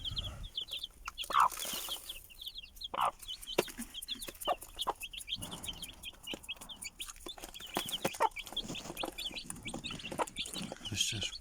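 Chickens cluck and chirp softly while pecking at broken rice and wheat, with scattered pecking taps and rustling close by and a few faint voices in the background.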